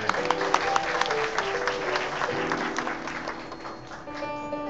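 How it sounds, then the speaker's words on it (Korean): Audience applause welcoming a speaker at a lecture event, many hands clapping in a sustained, lively burst that stays close and full, with steady tones from music or a sound system underneath. "박수로 환영하겠습니다"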